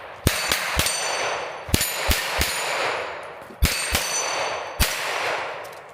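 Handgun bullets striking a steel spinner target, giving ringing metallic clangs in irregular clusters of two or three close together, each strike a sharp near ping with a short, bright ringing decay, no talk.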